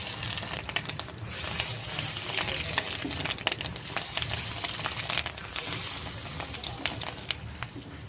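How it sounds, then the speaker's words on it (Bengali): Fish roe fritters made with gram flour fry in hot oil, giving a steady, close sizzle with scattered crackles and pops throughout and no talk. "এবার আমি মাছের ডিমের বড়াটা আমি দিয়ে দেব।"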